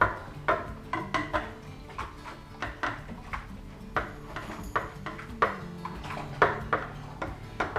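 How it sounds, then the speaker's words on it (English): Stout wort stirred with a metal spoon to work in oxygen, giving a steady run of light clinks and taps against the vessel, close by and fairly faint. "I'm going to need to stir a bit of oxygen into it"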